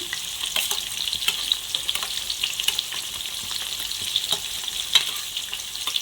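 Carrot and capsicum sizzle steadily in a hot pan while being fried for capsicum rice, a continuous crackling hiss broken by small scraping stirs, close and moderately loud with no talking.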